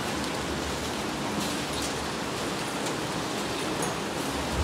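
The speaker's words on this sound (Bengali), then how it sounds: "এখনো বৃষ্টি।" Steady rain pours down continuously, a dense, even wash of hiss with no breaks or voices, fairly loud throughout.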